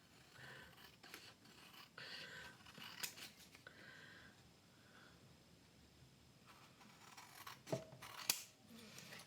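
Scissors snip through a glued paper tag in a quiet room, a few soft, close cuts and rustles of paper, faint and intermittent.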